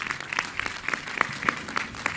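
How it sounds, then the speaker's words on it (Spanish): Audience clapping at a public government event in Texcoco, State of Mexico, with a steady, moderately loud patter of applause, individual claps standing out through the sound. "un aplauso para todos ustedes que hacen posible esta"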